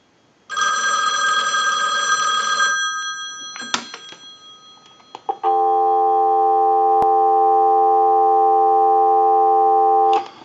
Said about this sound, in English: I'll let it go one more time and we'll give you some dial tone.